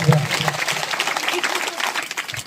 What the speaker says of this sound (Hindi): चलिए आप लोगों के लिए जोरदार ताली बजाइए एक बार।